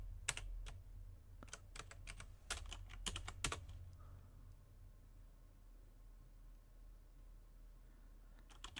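Rapid typing on a computer keyboard during a Nix build session in a terminal: a quick burst of close, crisp key clicks for a few seconds, then near silence with a final tap at the end.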